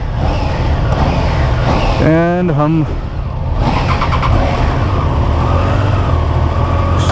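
A Triumph Trident 660 motorcycle's engine hums loud and steady while riding, with a short rising and falling rev partway through and a rider speaking briefly over it.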